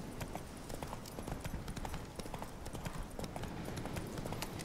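Steady clip-clop of horse hooves in the video game Witcher III, a rapid, continuous rhythm of fairly faint hoofbeats from a moving horse, with no talking over it.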